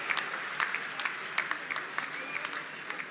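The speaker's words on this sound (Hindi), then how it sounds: "जोरदार तालियां भारत की इन वीरांगनाओं के लिए" A ceremony audience in Lucknow applauds India's Olympic women's hockey players, a fairly faint, steady wash of clapping with a few sharper individual claps rising above it.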